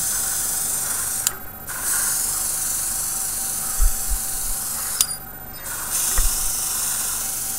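An airbrush mists green paint onto a Tamiya 1/35 M48A3 Patton tank model in a steady hiss, briefly cut off twice, with a few soft low thumps and no talk.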